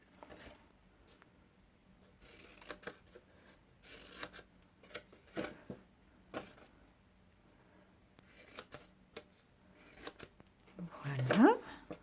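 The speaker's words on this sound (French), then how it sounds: "Je vais découper de part et d'autre des lignes qui figurent sur la base." Scissors snip paper along printed lines in short, faint, irregular cuts spaced a second or two apart, close by, with someone speaking quietly between them.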